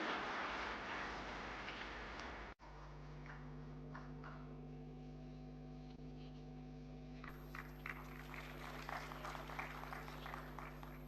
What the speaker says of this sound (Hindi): तालियों की गड़गड़ाहट बनी रहनी चाहिए।